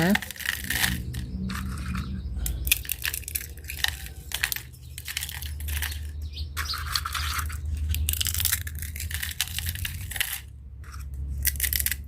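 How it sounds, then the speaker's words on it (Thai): Eggshells crushed and scrunched finely by hand, a dense, continuous crackling and rattling close by, with bursts and pauses throughout and someone speaking softly underneath at times. "เปลือกไข่นะคะ มาขยำก่อนเนาะ ขยำให้ละเอียดเลยนะคะ"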